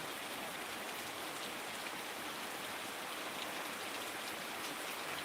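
Rain in Solapur district pours without pause, an unbroken wash of drops hitting the ground with a faint flowing, stream-like quality, sustained and fairly near, and no one speaking.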